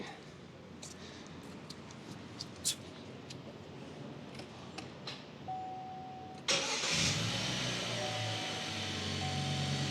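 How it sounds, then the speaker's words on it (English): A 2018 Buick Cascada's engine cranks and catches after a battery replacement. Quiet ticking first, then a sudden loud start that settles into a steady, close idle. "Let me start the car."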